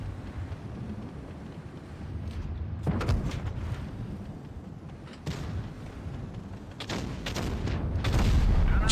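Tank cannon fire from a tier 9 heavy tank, the TL-7-120, in World of Tanks. Several sharp, booming shots at uneven intervals ring out over a constant low rumble of engine and wind-like noise, with the loudest blast near the end.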